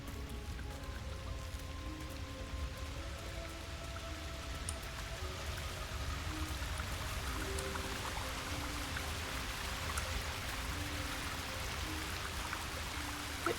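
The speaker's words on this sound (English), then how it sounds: "cave waterfall" A waterfall pours steadily inside a cave in a fantasy role-playing game, a continuous even rush of splashing water with soft droplet patter, unbroken and moderately distant throughout.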